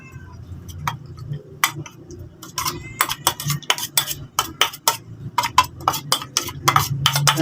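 A utensil clinks and scrapes against a dish or bowl while tablets are stirred into animal food, quick repeated clicks in bursts, with a cat meowing faintly in the background.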